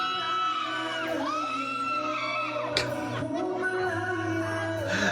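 Crowd screaming and cheering at a gig, a steady wash of shrill yells and whoops filling the clip, with a singing voice and sustained musical tones rising and falling over the noise.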